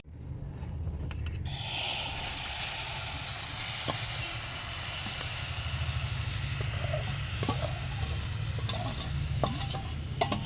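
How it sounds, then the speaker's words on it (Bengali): Raw mangoes mixed with sugar cook in a wok without added water, giving a steady loud hiss and sizzle with occasional faint clinks, close and unbroken. "এবার আমি এই আমগুলো কড়াইতে দিয়ে দেব।"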